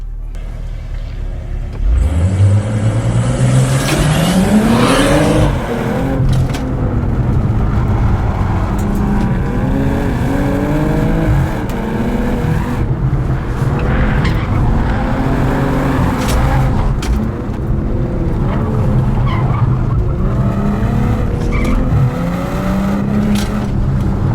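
A BMW sports car engine revs hard on a race track, rising through the gears with a loud, continuous roar and repeated shifts as it drives at speed.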